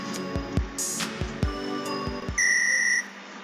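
A whistle in the game OMORI sounds as a piercing steady tone lasting about half a second near the end, after a run of short game blips and thumps, with no talking over it.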